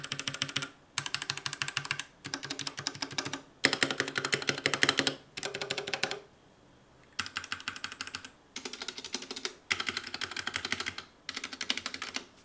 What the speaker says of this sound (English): Let's immediately get a sound test of the difference.